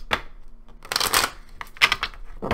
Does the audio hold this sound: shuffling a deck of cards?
yes